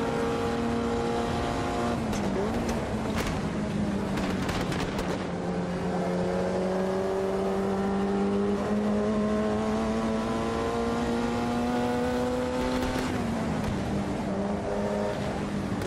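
In the Automobilista 2 racing game, a Lotus 51 race car at Willow Springs drones loudly while passing other cars in traffic, its engine pitch rising with each gear and briefly dipping at quick shifts.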